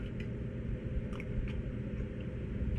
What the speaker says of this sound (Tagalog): pag kumakagat kang ganyan, crunchy pa rin